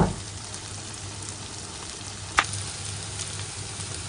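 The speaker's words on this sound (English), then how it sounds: "I really like the texture and color when I just little bit fry them in the pan" Vegetables for chicken jalfrezi fry in a pan with a steady close sizzle, broken once by a single sharp click midway.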